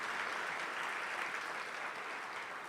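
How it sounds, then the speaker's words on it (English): An audience at an alumni day homecoming luncheon applauds, with steady, even clapping from a room of people that fades slightly toward the end. "Give yourself a hand of applause."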